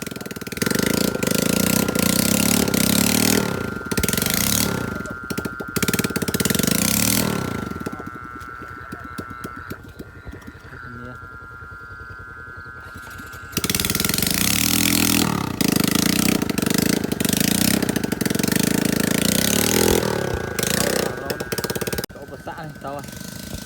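A motorcycle rides a rough, rain-damaged mountain dirt track, its engine droning and revving loudly close up, falling to a quieter idle midway before surging again.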